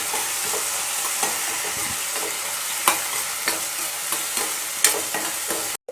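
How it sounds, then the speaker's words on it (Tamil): Green chilli, garlic and tomato sauté in a pan while a Tamil New Year feast is cooked, giving a steady close sizzle with regular scraping stirs and a few sharper knocks of the spoon, and no voices. "ஒரு பச்சை மிளகாய் நல்லா வதங்கட்டும்."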